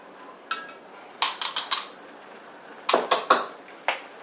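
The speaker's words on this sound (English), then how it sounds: "I'm going to go ahead and add, it would be roughly 4 tablespoons of minced garlic." A spoon clinks against a sheet pan while minced garlic is added for a shrimp bake: a short single tap, then two quick clusters of sharp metallic clinks, close and with no talking.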